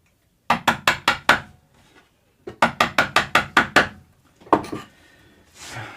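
Sharp wooden-sounding thwacks strike during a bass guitar build in a luthier's workshop, landing in quick rhythmic bursts of several hits separated by short pauses, loud and close.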